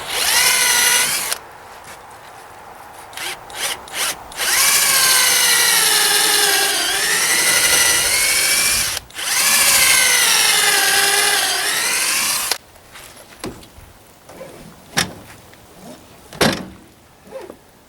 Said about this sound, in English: I like to pre-drill my toenails here